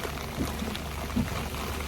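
Rain shower falling outdoors near a river mouth on the Latvian seacoast, a steady broadband hiss of drops with a few slightly louder pattering spots, fairly close and continuous.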